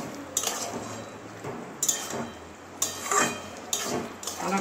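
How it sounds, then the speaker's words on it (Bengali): Fried potatoes tipped into a pan of watery cooked mushrooms for a mushroom-potato curry, heard as four separate scraping, clinking bursts of a spatula against the pan at regular intervals, close and fairly loud, with no talking. "ভেজে রাখা আলুগুলো দিয়ে দিচ্ছি।"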